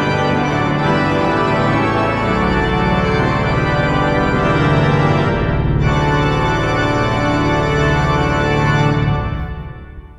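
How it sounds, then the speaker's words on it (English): The swell division of an Austin pipe organ at First Baptist church, with all stops drawn including the chamade reeds, holds a loud, dense, sustained chord that shifts slightly before releasing and fading into the room. "And with the Chamades and basically everything pulled, it sounds like this."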